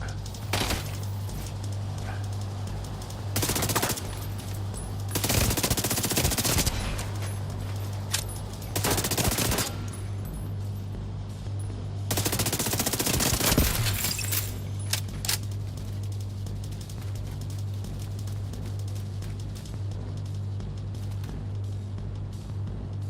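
Bursts of gunfire from The Division 2 video game during a suppression-build firefight, several loud volleys breaking out at intervals with quieter stretches of ambient game noise between them.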